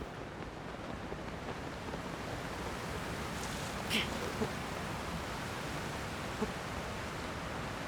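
A waterfall in Zelda: Tears of the Kingdom roars as a steady, dense rush of water, constant and fairly loud throughout, with a couple of faint, brief clicks over it.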